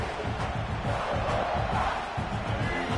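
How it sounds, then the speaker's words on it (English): A large American football stadium crowd roars and cheers continuously, a dense wall of distant voices with no break. "This crowd bringing the energy and noise early"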